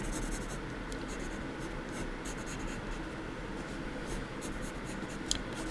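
A pencil writes on paper in a steady, close scratching rhythm of short strokes with small ticks and taps, continuous and alone.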